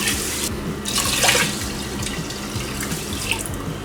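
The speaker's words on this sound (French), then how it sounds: "Et je vais y ajouter 2 fois le volume du riz en eau." Water pours steadily into a rice cooker holding rinsed rice, a close, continuous splashing stream that runs unbroken throughout.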